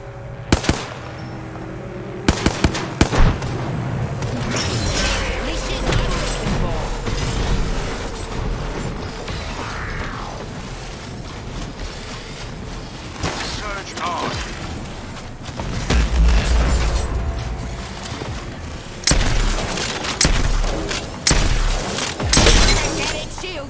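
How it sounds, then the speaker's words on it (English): Frag grenades go off in a first-person shooter game, with several sharp, loud blasts and shattering bursts scattered across a busy stretch of gunfire and game noise, with excited voices talking over it. "Loving a frag. Chucking a frag."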